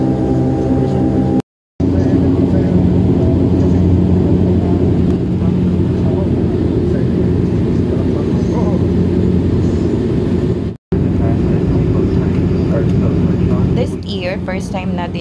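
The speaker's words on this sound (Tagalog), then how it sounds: "First time natin nakasakay ulit ng aeroplano guys." A steady, dense airliner cabin roar of engines and airflow during flight, loud and constant, broken by two brief dropouts, with a voice talking over it near the end.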